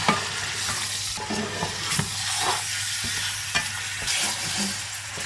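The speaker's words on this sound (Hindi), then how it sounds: "सिर्फ इतना हमने भूनना है कि गोश्त जो है इसका रंग तब्दील हो जाए।" Mutton fries with ginger garlic paste in a pan, a loud, close, steady sizzle with regular stirring strokes and scraping of a spoon, and no voices.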